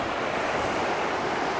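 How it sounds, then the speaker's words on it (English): Steady ocean surf rolling in at St. Augustine Beach, a continuous broadband wash of breaking waves, close and fairly loud with no voices. "Steven, Mary, and the kids playing in the ocean. St. Augustine Beach, 2018"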